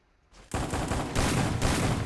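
Gunfire in the mobile shooter Free Fire starts after a brief quiet lead-in, then rattles on as sustained rapid bursts, loud and close, with no talking.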